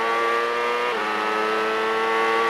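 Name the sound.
CART race car accelerating and changing up through the gears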